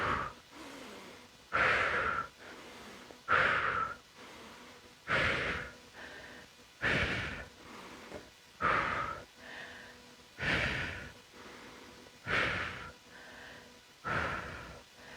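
Heavy, rhythmic breaths come from someone doing weighted curls: about eight loud, close exhales, one roughly every two seconds, with quieter inhales between them.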